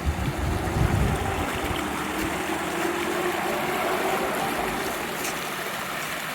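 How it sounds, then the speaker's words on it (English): A fast-flowing stream at Prompton State Park roars continuously, a dense, loud rushing wash close by with no pauses. "That water's moving so fast it's revving its engine."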